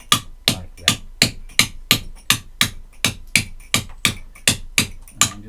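Steady hammer blows on a chisel cutting moist, flaky Storeton stone, about fourteen evenly spaced sharp knocks at a quick, regular rhythm, close by and alone.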